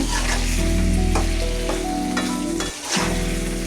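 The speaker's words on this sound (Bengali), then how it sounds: "একটু নেড়ে দিচ্ছি" Home-grown sweet pumpkin fries with ground shrimp heads in a pan, a steady loud sizzle with scraping stirring strokes and a brief dip in the noise.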